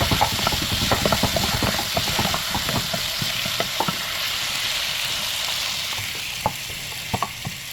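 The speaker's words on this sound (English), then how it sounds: "continue frying your potatoes" Potatoes and meatballs frying in a pan give a steady loud sizzle, with repeated scraping taps from a spoon stirring through the food, close up and without talk, during Kenyan home cooking.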